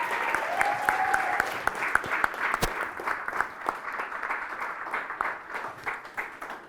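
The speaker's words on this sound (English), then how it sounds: "Give all the panelists a round of applause," An audience applauds panelists at a youth event, with a full, steady burst of many hands clapping that gradually thins and softens toward the end, plus a few sharper individual claps.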